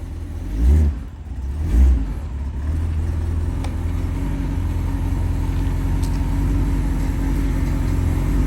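A 1984 C4 Corvette V8, fitted with a new starter and distributor, gets two short revs followed by a steady, loud idle with a low rumble, heard up close.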